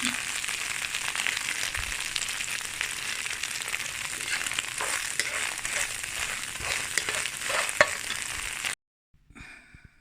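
Prawns and vegetables for fried rice frying in a pan, giving a continuous close sizzle with stirring scrapes throughout, then cutting off sharply near the end to near silence.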